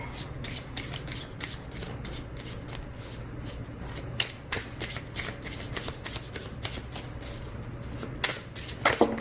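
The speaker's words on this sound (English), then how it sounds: "And then let's shuffle." Oracle of Echoes oracle cards being shuffled by hand in quick repeated riffles and slaps, crisp and close in a quiet room, with a louder flurry near the end.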